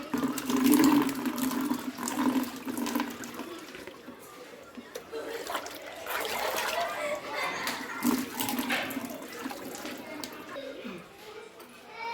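Water splashes and pours steadily into an air cooler close by, with a voice speaking intermittently over the running water.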